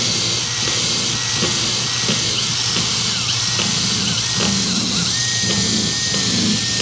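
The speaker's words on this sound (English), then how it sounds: "drill out this hole here" A power drill bores through a deck board with laminate beneath, a loud continuous whine with slight pitch shifts as the bit works through the material.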